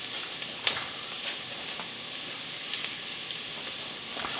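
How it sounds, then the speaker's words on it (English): Vegetables sauté in a pot for vegan lentil soup with a steady, soft sizzle and occasional light stirring scrapes, close and quiet, with no talking. "I saute it just 5 minutes just to get that flavor."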